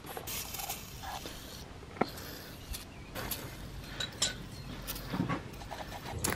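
Wrench working at freshly oiled wheel bolts on an old camper van, heard as scattered metallic clinks, ratcheting clicks and a sharp crack near the middle, fairly close over steady outdoor background noise.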